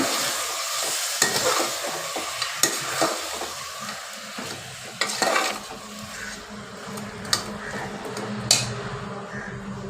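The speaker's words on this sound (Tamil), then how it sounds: "அதை அதில் சேர்த்துக்கலாம் சேர்த்துட்டு நல்லா கிளறி விட்டுக்கலாங்க" Half a kilo of mutton is stirred in a pan for Chettinad mutton curry, with a soft sizzle under irregular scrapes and sharp clanks of a spoon against the metal. No talk is heard.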